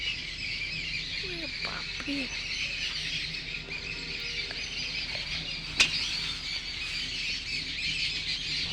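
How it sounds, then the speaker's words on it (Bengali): Outdoors near a date palm, birds give scattered squawks and chirps at moderate distance over a steady hum of ambient noise, with one sharp click partway through. "আর এই পাখির কিচিরমিচির আওয়াজগুলো আমাকে আলাদাই একটা জায়গায় পৌঁছে দিয়েছিল"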